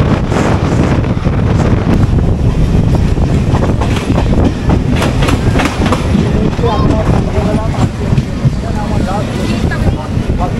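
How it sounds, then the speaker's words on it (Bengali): A crowded Shantipur local commuter train on the move, heard from inside the carriage as a loud, steady rumble with wind noise and rattling, while passengers murmur in the background. "এই ট্রেনে করে এখন যাবো আমরা হাবিবপুর অবধি"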